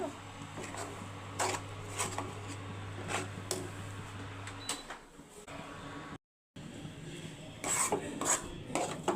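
A spoon stirs a milk powder and maida mixture in a pan, making repeated rhythmic scraping strokes against the metal over a low hum that stops partway. The audio drops out briefly, then the scraping continues.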